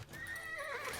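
Cavalry horses whinny in Age of Empires IV, one brief, fairly quiet neigh with faint hoof movement beneath it and no speech.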